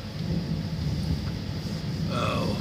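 Low thunder rumbles on and off during a lightning storm, heard from inside a vehicle on a highway, with some rain and a brief higher hiss near the end; no one speaks.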